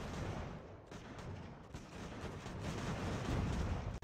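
Battle gunfire rumbles continuously in a musket-era American Revolution strategy game, with dense crackling volleys and distant booming blending into a steady wash of combat noise.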